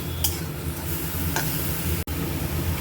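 Grated pineapple for pineapple chutney frying in a pan, a steady close sizzle with faint ticks and a brief stir, no voices.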